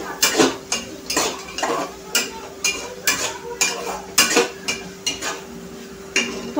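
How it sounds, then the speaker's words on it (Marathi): Spices fry in oil for dal khichdi while a spoon stirs and scrapes the pan in repeated sharp metallic strokes, about a dozen over several seconds, over a faint sizzle. "हे पहा मसाले छान असे परतत आहेत तेलामध्ये"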